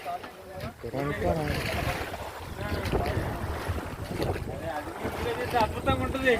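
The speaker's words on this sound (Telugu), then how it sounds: "ఏది బోట్ బయలుదేరింది ఇప్పుడు" A boat sets off on the Godavari river, its motor and water movement mixed with heavy wind buffeting the microphone, with voices chatting nearby.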